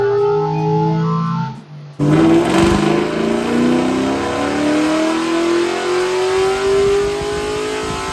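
A squarebody truck with an LS3 V8 engine makes a dyno pull from 3,000 to 6,500 RPM. The engine idles, then roars loud and close as its pitch climbs steadily through the full run.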